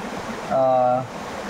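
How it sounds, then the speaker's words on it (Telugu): Uppalli waterfall near Jangareddygudem, a steady broad rush of falling water throughout, with a brief tonal voice-like sound rising over it in the middle. "జంగారెడ్డిగూడెం దగ్గరలో ఉన్న మన ముంజులూరు ఉప్పరల్లి వాటర్ ఫాల్స్ ప్రదేశానికి రావడం జరిగింది"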